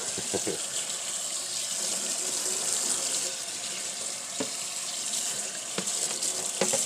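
Berries are rinsed under a running kitchen tap, a steady hissing spray of water with small splashes and bursts as the fruit is moved around, close and moderately loud.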